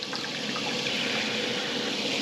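Hot water runs steadily from a Camplux Nano 3 Pro portable water heater set high for a shower at about 95 degrees, a continuous close hiss of spray with no pauses.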